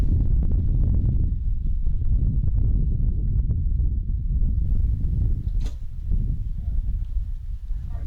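Strong wind buffets the microphone at an outdoor recurve archery range during a men's gold final, a heavy continuous low rumble with gusts rising and falling, while people talk quietly beneath it.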